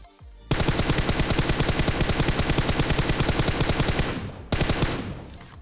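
Sustained automatic gunfire from PUBG Mobile in Traverse Insectoid mode, a loud rapid burst lasting several seconds that breaks off briefly and then resumes, with no talk.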